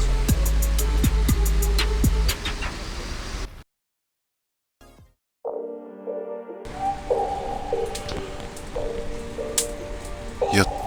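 Steady rain falling on a campsite tarp by a river, a dense hiss broken by a sudden silent gap, then returning with scattered drips and louder spatters.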